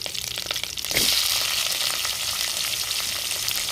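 Onions frying in a pan as the base for a fish curry with sardines, a loud sizzle that jumps up about a second in as they hit the hot oil, then a steady crackle. No talking.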